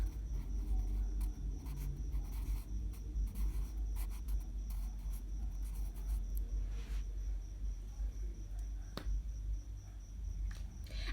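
Lottery numbers written by hand with a pen or pencil on paper, a steady faint scratching of strokes and scribbles over a constant low room hum, with no one talking.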